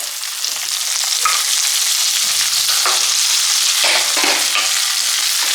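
Chopped coconut fries in oil with onions for a Kerala-style squid roast, giving a loud, continuous close-up sizzle with occasional soft scrapes of stirring. No voices are heard.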